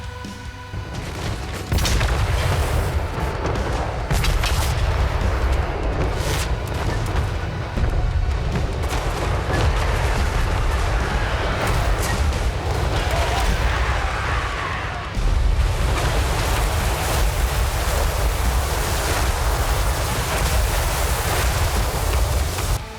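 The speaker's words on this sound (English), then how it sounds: "You're about to see them all fire. Shoots lightning, shoots cannons of different varying sizes, rockets." Great Harmony Sentinel war machine in Total War Warhammer 3 unleashing lightning, cannons of varying sizes and rockets, a loud continuous barrage of booming blasts and roaring rumble with brief dips, no voices.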